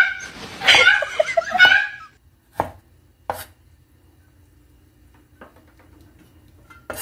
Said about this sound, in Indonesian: Ini bawang putihnya teman-teman sama bawang merahnya aku potong segini-gini aja.